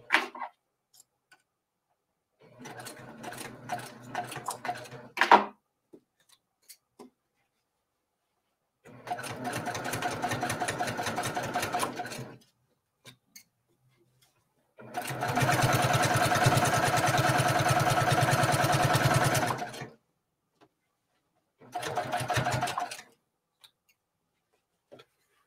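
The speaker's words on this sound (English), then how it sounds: "we're sewing on the hanging sleeve." A sewing machine stitches a hanging sleeve onto a small embroidered mini quilt, running in four separate bursts of steady mechanical whirring, the longest lasting about five seconds, with short quiet pauses between them.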